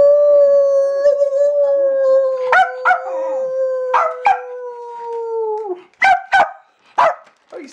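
Peanut the dog howls close and loud in long sustained, slowly falling notes, breaking into short barks and yips toward the end.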